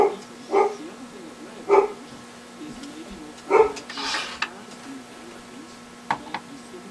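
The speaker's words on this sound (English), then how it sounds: "I had to stay silent because the dog was barking for a minute." A dog barks several times in separate, spaced-out yips and woofs, moderately near, over a steady background hum with no talking.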